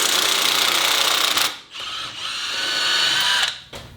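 Impact wrench removing a 17 mm bolt on a Mazda 3, a loud, close, whirring buzz that runs steadily, cuts out briefly, then revs again in two more bursts before stopping.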